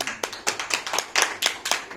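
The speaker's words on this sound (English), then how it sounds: "Can we just give him a huge round of applause?" Audience clapping at a conference session welcoming the moderator, a sparse round of distinct hand claps from a small group, fairly close, with no talk over it.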